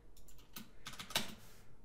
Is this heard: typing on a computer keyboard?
yes